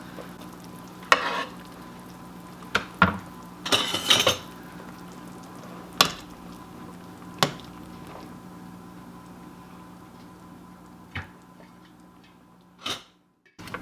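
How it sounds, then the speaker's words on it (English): Tough kale stems cook in a pot for soup, a soft steady sizzle underneath several sharp clinks and knocks of utensils against the pot, with quieter stretches near the end. "I'm going to go ahead and throw those stems, because they're tougher, in and let them cook for about 2 or 3 minutes."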